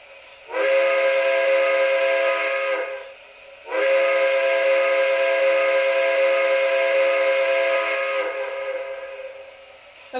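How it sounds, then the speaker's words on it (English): Two long blasts from the steam whistle of an MTH Premier PRR K4 model locomotive, a loud chord-like tone sounding close, the first about two seconds and the second nearly five seconds, with a short pause between. "And here's the whistle."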